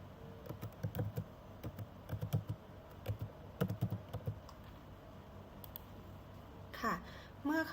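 Rapid keystrokes on a computer keyboard as a username and password are entered to log in to an online shop's back-office system, typed in short irregular bursts, fairly close, over a quiet room.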